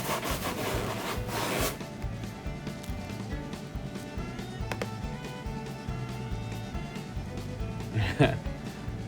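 Someone rubs an object to charge it with static electricity for a paper butterfly, giving a steady scraping friction sound in short bursts with a louder rub near the start, while a voice talks over it.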